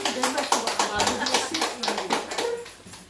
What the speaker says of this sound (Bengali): একটা হাততালি হয়ে যাক আমার জন্য।